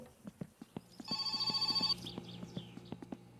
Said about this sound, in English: let's answer the phone, because it's really annoying